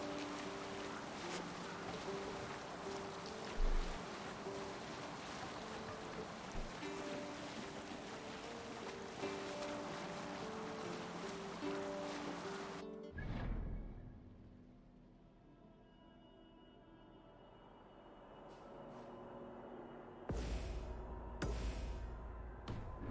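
A sailing boat moves across the open sea in the video game Assassin's Creed Valhalla, with steady wash of waves and gusting wind under a soft tonal backdrop, then a lull before splashes return.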